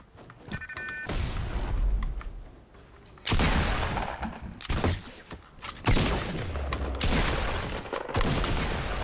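Loud, close gunshots fire in Fortnite as sharp bursts, some single and some in quick pairs, spread through the stretch with no talk.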